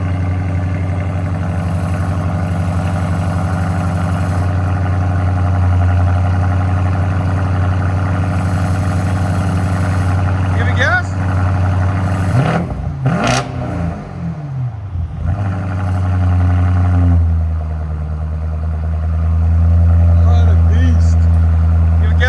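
Deep, loud 2021 BMW M850i 4.4L twin-turbo V8 with X-pipe and straight pipes, no muffler, idling with a rough rumble, then revving up and settling back, recorded close to the exhaust while someone talks nearby.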